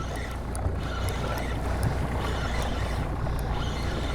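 A fishing boat motor trolls slowly along a rocky spine on a northern Manitoba lake during fall fishing for walleye and lake trout, giving a steady, close, low rumbling drone with wind and water noise and no speech.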